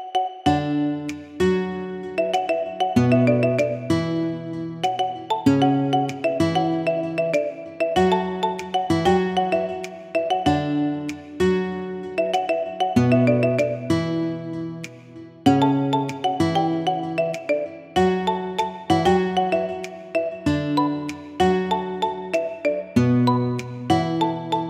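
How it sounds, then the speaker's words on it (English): A bright, plucked marimba ringtone melody, a remix of a song, repeats in a bouncy loop of mallet notes, clear and upfront with no voices. "Get this cool ringtone for your phone now."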